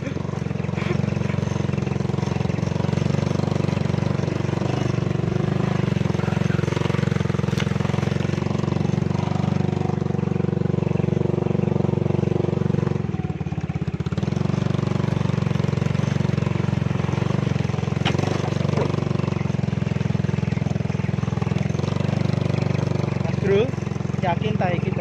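Kawasaki KLX dirt motorcycle engine droning steadily and loud on an unpaved dirt-and-stone track through Meru Betiri National Park, a continuous close running hum throughout with people talking over it.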